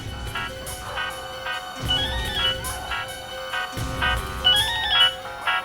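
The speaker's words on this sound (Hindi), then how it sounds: "फोन बज रहा है।" A phone rings in repeated electronic bursts, a melodic ringtone pattern cycling several times over a low background hum.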